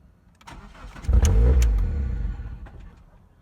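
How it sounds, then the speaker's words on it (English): A 1995–1999 Mitsubishi Eclipse engine is cranked over without starting after a fuel pump install, giving a loud, low starter churn of about two seconds that rises abruptly and then fades, with no other sound. "just crank the engine over once just to get some of that pressure out of the lines without actually starting the car"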